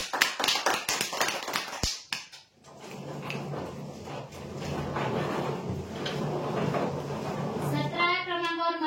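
Brief hand clapping from a small group at a prize draw announcement, sharp claps for about two seconds that fade, followed by a spoken voice and background murmur.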